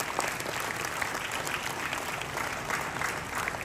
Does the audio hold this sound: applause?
yes